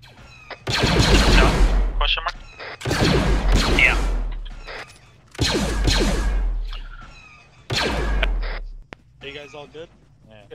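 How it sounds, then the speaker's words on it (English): Bursts of automatic gunfire from the Arma 3 video game in a Star Wars mod town-clearing battle, coming in four long loud volleys separated by short pauses, with faint mechanical clicks between them. "Provide covering fire."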